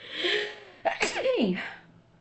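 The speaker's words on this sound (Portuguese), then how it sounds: "Eu preciso espirrar, gente." A single sharp sneeze, preceded by a short drawn-in breath, loud and close, then fading.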